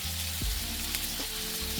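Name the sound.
chicken fillet and beef frying in melted butter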